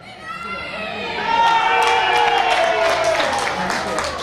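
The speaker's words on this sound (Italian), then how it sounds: "mentre si alza il tifo della formazione del quartiere del Piave" Home-team supporters of a neighbourhood women's football side cheer at a match, a steady crowd roar that swells louder midway and holds, with a shrill whistle-like tone and a commentator's voice over it.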